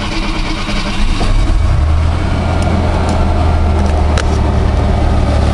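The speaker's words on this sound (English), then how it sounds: "Let's fire it up, see if she'll start." A 1989 Ford Ranger XLT with about 172,000 miles and stale gas cold-starts, then settles into a loud, steady low rumbling idle close by, with no talking.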